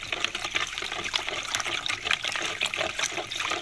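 Water poured into a pickle brine in a home kitchen, a steady trickling splash that runs close and fairly loud throughout with no break.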